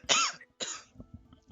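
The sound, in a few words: cough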